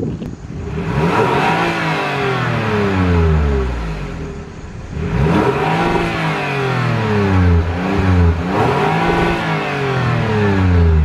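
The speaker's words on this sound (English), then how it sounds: "Let's get some revs for you." A 2022 Toyota Highlander SUV engine revs up hard several times, pitch sweeping upward and dropping back between blips, loud and close with no talking.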